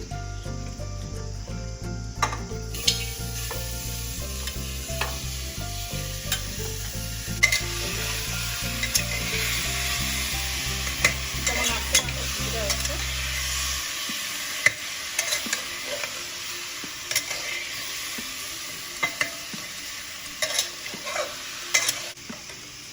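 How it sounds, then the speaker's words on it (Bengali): Chicken meat frying in a pot for stew sizzles continuously and fairly loudly, with occasional stirring clinks and a low steady hum under the first half. "এখানে যতক্ষণ ভাজা ভাজা হচ্ছে মাংসটা"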